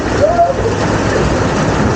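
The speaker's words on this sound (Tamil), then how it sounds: "டம்மு டம்மு டம்முன்னு டொம்முன்னு விழுது இந்த லைன் ஃபுல்லாகவே ஐஸ் கட்டி தான்" Hailstones fall over the desert in Saudi Arabia, making a dense, steady roar of pattering impacts that runs without a break through the whole stretch.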